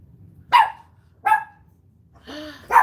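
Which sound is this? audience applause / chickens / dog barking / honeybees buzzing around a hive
dog barking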